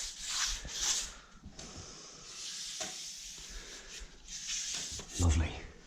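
A Mirka Deros sander works over a painted picture rail being prepared for primer, giving a soft rubbing, hissing rasp in passes that swell and fade, with brief quiet gaps and a few knocks.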